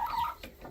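A hen clucks in a short burst close by, a bright rising call followed by a few softer clucks, with no talking over it.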